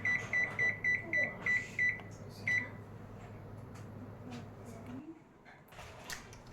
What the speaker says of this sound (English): It's always good to set a timer for these kinds of things.